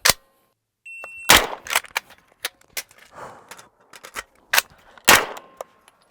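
Call of Duty gunfire and a switch to a secondary pistol: a run of sharp, loud gunshots in uneven bursts, spaced with brief clicks and gaps, with no voices.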